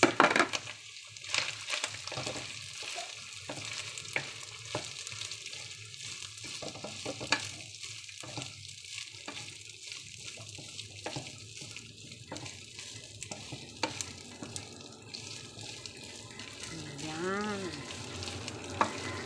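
Brown rice stir-fried in plenty of oil in a pan, a continuous hissing sizzle with repeated scraping stir strokes throughout, close and fairly quiet, with a brief voice-like sound near the end.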